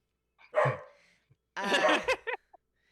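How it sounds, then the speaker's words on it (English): A dog barks nearby in two short bursts, the first a single yip and the second a quick run of barks with a trailing yelp, heard alone without talk. "He's gonna bark while it's still going"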